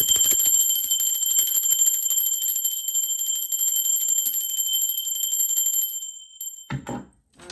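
A bright, sustained bell rings continuously at high pitch with a rapid metallic trill for several seconds, then cuts off, followed by brief rustling.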